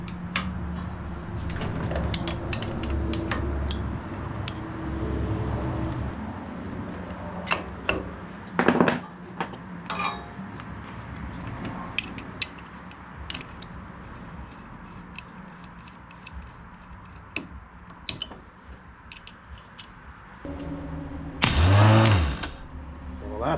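Metal tools clink and ratchet while the starter comes off a 2006 Craftsman LT3000 lawn tractor: irregular close clanks and scrapes, a louder knock midway, and a short rumbling whir near the end.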